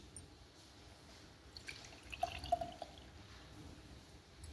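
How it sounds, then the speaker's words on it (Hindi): Sweet-and-sour sharbat strained into a drinking glass makes faint, sparse drips and a soft trickle of liquid, quiet and close, with a few brighter splashes in the middle. "जिस गिलास में आपको पीना है उसमें आप छान लीजिए।"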